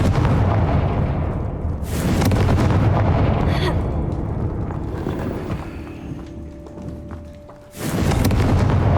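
Confringo fire spell bursts in Hogwarts Legacy, two loud booming explosions with crackling aftermath between them, and no talk.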